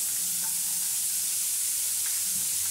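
Chopped carrots and beans frying in oil for a jackfruit seed dal, a steady dense hiss that stays even throughout, close and unbroken with no talk.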